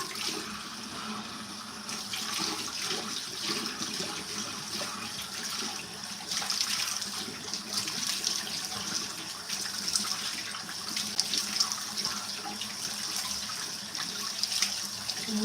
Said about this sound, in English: Warm water.